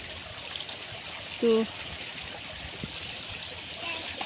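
Small mountain stream flowing near rice fields, a soft steady trickle and rush of water in the background, with a short spoken syllable breaking in partway through.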